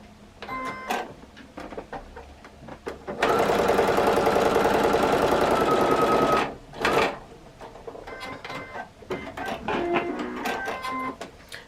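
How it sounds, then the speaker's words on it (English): A sewing machine stitches a quarter-inch seam in a quilt block, a steady, close whir lasting about three seconds between quieter handling noises of fabric and table. "So all we're going to do literally is fold this over front sides, and we're going to do a 1/4 inch seam."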